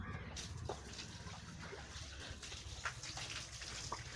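Running tap water from a hose splashes steadily over stone steps being washed, a continuous close gush with brief splatters throughout.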